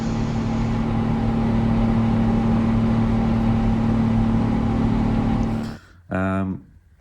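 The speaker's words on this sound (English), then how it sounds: "most of the sound in the cockpit is going to be sounds from winds on the windows and the fans inside the airplane from the PAC system" Wind rushing over the windows and the PAC air-conditioning fans fill the cockpit of a PMDG 777-200ER in FS2024 during the climb after takeoff. The roar stays loud and steady with a constant fan hum, then drops away sharply near the end, followed by a short burst of noise.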